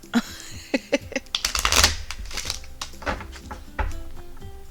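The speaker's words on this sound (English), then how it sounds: "I don't know what is up with me and my shuffling this morning." Tarot cards are shuffled by hand in uneven bursts of papery clicks and slaps, close and moderately loud, with some pauses and a few louder riffles.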